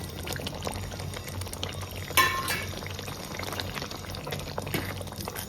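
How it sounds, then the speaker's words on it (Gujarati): Patra rolls stirred into a ridge gourd curry in a pan, with a soft continuous sizzle and wet stirring, plus one brief louder scrape near the middle. "પાત્રા બધા મિક્સ કરી નાખવાના છે"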